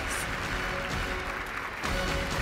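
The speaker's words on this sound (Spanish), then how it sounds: "Eduardo Osvaldo Martínez Florido, vamos a recibirlos con un fuerte aplauso." Audience applause at a student awards gala welcoming project winners from an educational institution in Sogamoso, a brief, fairly soft burst of clapping mixed with room noise and murmur.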